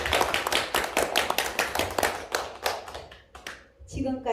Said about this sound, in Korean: 이영희 선생님께 큰 박수 부탁드립니다.